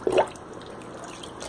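Water drips and trickles off a T-shirt freshly rinsed after stencil painting, with a brief splashy patter at the start and then a faint wet background, no voices.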